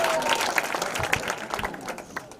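A crowd at a youth gathering in Garissa claps steadily to welcome a speaker, a brief, even burst of applause with no talking over it.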